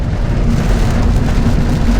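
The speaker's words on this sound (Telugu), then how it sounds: "వర్షం పడుతుంది" Steady, loud rain pours down in humid, hot weather in Thailand, a continuous dense hiss with no voices.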